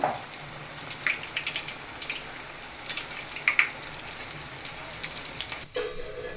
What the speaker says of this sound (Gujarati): જ્યાં સુધી આપણી ટીકડી એકદમ ફૂલ તળાઈ જાય અને એકદમ ગોલ્ડન બ્રાઉન ક્રિસ્પી થઈ જાય ત્યાં સુધી આપણે તેને તળાવવા દેશું